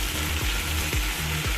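Yam curry with spices frying and being stirred in a pan, a steady close sizzle with a few scraping stirs cutting through, no talking.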